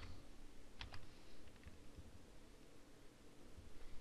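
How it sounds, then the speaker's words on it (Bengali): A few quick, light keystrokes typing a captcha code on a computer keyboard, near and quiet, with pauses and a steady faint hiss in between. "আমরা এখানে ক্যাপচা লিখব"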